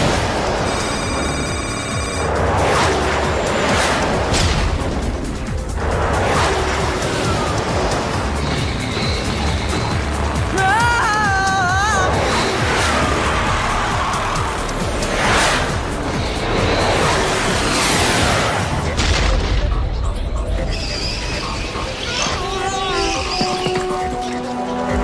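Guided missiles streaking and exploding in a Transformers cartoon chase through a rock maze, loud continuous whooshes, roars and blasts layered with dramatic action music, plus warbling electronic tones, busy and dense throughout.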